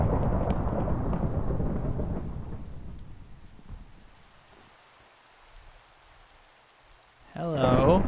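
Thunder from a lightning strike in the Minecraft video game rumbles loudly, then fades into a quiet stretch of rain before another sharp burst at the end.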